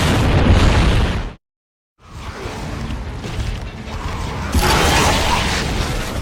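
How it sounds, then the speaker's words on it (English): A smoke grenade goes off in the video game Gears of War 2, a loud, close burst of rushing blast noise that cuts out briefly, then hisses and roars on steadily. "a modified smoke bomb that knocks people off their feet"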